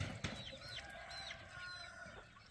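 A rooster on a homestead clucks and calls agitatedly in a few rising, wavering bursts, fairly faint against quiet outdoor background.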